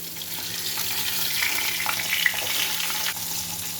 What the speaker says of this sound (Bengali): দিয়ে একটু মাথাটাকে ভেজে নেব